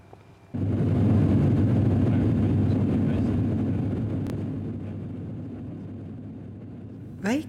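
A small airplane flying from home to Helsinki-Vantaa airport gives a steady, loud broadband engine drone that starts abruptly and holds, easing slightly over several seconds, with a brief rising whistle near the end.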